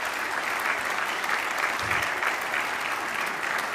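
Audience applause at an innovation day event, a steady, dense wash of clapping from a large crowd that holds evenly for the whole stretch.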